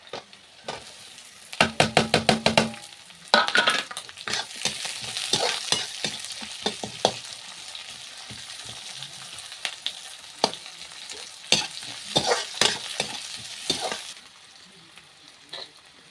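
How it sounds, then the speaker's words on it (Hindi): Onion and parwal fry in hot oil with a crackling sizzle, interrupted by loud clattering stirs of a spoon against the pan near the start and sporadic scraping strokes throughout, with no talking. "परोड़ा भी डाल देती हूँ, प्याज भी, दोनों इकट्ठा भून जाएंगे गाइस"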